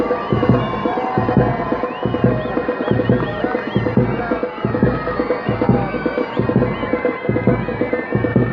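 Festival audience at an outdoor cultural stage event responds with sustained applause and cheering, a dense continuous crowd roar with scattered shouts filling the whole stretch at steady loudness.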